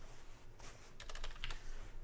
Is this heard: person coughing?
no